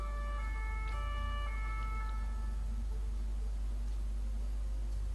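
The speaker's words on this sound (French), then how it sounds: "on va attendre que l'ambulance soit passée." An ambulance siren in the video game Shadowrun Dragonfall, a faint wailing tone that fades out within a few seconds under a steady low rumble of background noise.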